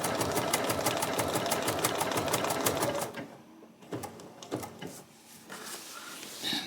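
A sewing machine stitches raw edge applique in a fast, steady mechanical chatter up close, then stops and gives way to a few slower, separate stitches and clunks as the fabric is turned.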